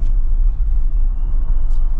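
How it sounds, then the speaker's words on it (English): A 2024 Jeep Wrangler Sahara 4xe plug-in hybrid drives on the road in electric-only mode, giving a steady low road and tyre rumble with no engine note, heard from inside the cabin. "it's just EV mode, driving around in basically an electric car"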